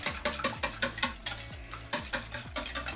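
A utensil stirs pancake batter with added oil in a bowl, steady rhythmic scraping and clinking strokes about four per second, close and clear with no talking.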